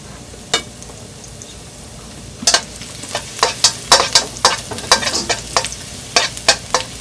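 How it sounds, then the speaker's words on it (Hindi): Garlic and ginger sautéing in hot oil for mutton fried rice, a steady low sizzle broken by repeated scraping stirs of a utensil against the pan, close up and with no talking. "इसको सौटे करेंगे जब तक इसमें अच्छी सी खुशबू ना आ जाए"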